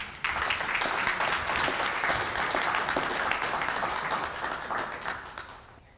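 An audience at a Douglas County Board of Commissioners event breaks into loud, sustained applause, dense clapping that holds steady for several seconds before tapering off at the end.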